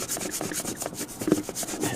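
Close, steady rubbing and scrubbing on a cracked engine block being cleaned around the crack before JB Weld repair, with a continuous abrasive texture and a few sharper scrapes, no talking.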